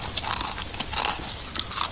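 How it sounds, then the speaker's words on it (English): Crunchy chewing of pretzels, close and loud, with rapid irregular biting and cracking bursts over about two seconds and no talk. "I'm eating pretzels."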